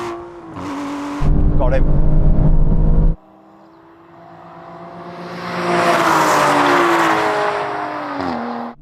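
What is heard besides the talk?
Aston Martin car revving and accelerating in a drag race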